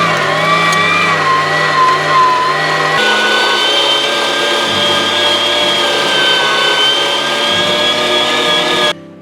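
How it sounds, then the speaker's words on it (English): Meat grinder chewing through chunks of frozen venison, a loud, close, continuous motor whine with a shifting, strained pitch that runs without a break before cutting off at the end. "We're having to break off chunks of grind here to put through the grinder."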